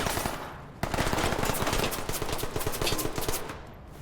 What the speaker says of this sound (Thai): ขวายิงมาใช่ไหม